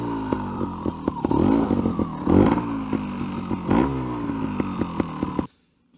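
A trials motorcycle engine runs nearby, blipping through several sharp revs over a rattling idle before cutting off abruptly into silence.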